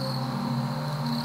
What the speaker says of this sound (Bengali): বাতাসে একটানা ঝিঝি পোকার শব্দ